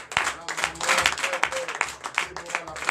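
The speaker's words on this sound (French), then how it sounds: "je vous demande de l'applaudir très fort" Church congregation at a Sunday worship service in Comè, Benin, applauding loudly, a dense wash of claps mixed with voices and someone talking through it.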